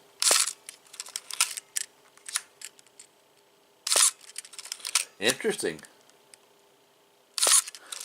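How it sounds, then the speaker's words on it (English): Electronic camera shutter firing in sharp, near clicks, one burst near the start, another around four seconds and a third near the end, with a voice speaking briefly between them. "put him on, let you hear the shutter speed"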